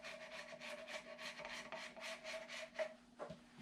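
A metal file is drawn lightly and slowly along the fret ends of a guitar neck to smooth out scratches. About a dozen soft, evenly spaced rasping strokes sound close and quiet, with no voices.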